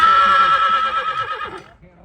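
At a draft horse show, a horse lets out a long, loud whinny that quavers and then fades, with someone talking in the background.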